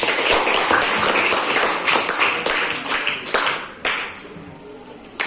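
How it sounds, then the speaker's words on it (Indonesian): Students clap in a classroom for a classmate, a short burst of fairly close hand clapping that tapers off and breaks into a few scattered claps, with some talk mixed in. "Dan tepuk tangan untuk Riza."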